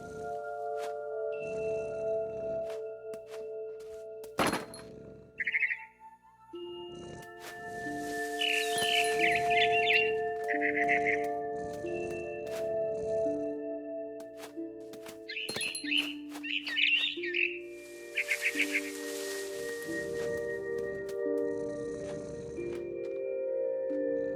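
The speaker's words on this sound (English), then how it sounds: "I tried to be quiet, but the bird was really scared." Scared bird in What Remains of Edith Finch: short, high, nervous chirps come in a few scattered clusters over soft, steady tonal music, with faint rustling between them.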